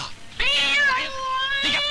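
A cat meows loudly in a Hindi comedy film, one long drawn-out meow followed by a shorter second call, close and clear with no talk over it.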